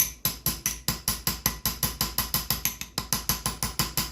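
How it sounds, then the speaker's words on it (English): A small hammer strikes a large chisel in a steady run of about twenty sharp metallic taps, each ringing briefly, close up and evenly paced with no talking. "I'm going to start out with the little hammer and the biggest chisel I have"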